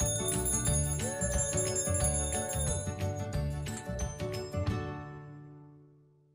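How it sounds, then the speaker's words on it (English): A church bell rings during a Sunday service at First Parish Brewster, its resonant rhythmic strokes sounding loud and close before the final tones fade into a long decay. "now we ring the bell"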